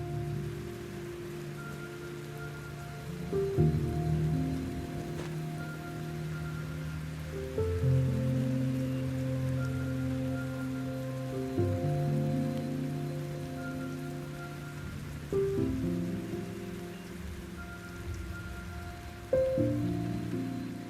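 Steady rain falls through a eucalyptus forest in Australia, a constant patter on leaves with low tonal hums and occasional swells, no voices.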